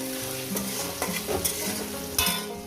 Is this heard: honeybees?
no